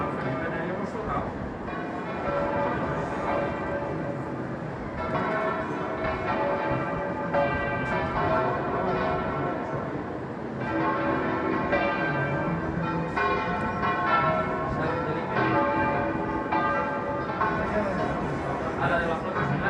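Church bells swinging in full peal at Santos Juanes for the Virgen de los Desamparados, a dense, continuous, loud wash of overlapping clangs ringing without pause, with faint crowd chatter beneath.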